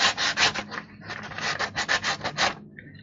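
Sandpaper rubbing over a stack of carved wooden penguins in quick, rhythmic back-and-forth strokes, close and fairly loud, with a brief pause midway before the strokes resume.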